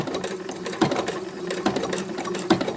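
A sewing machine stitches slowly through a thick fabric journal cover, a soft, even mechanical whir with three heavier periodic thumps as the needle punches through, fairly quiet and close.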